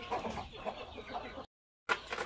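Pet egg-laying chickens cluck close by in a brief, busy run of overlapping clucks, broken by a short silence before the clucking resumes.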